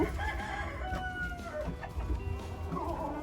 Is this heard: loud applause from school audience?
no